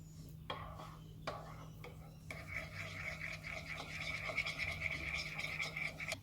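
Chia seeds, sweetener and heavy cream are stirred together in a bowl for keto overnight peanut butter "oats", with a few sharp clinks of a utensil followed by a steady wet scraping swirl. The sound is close and of moderate loudness, with no talking.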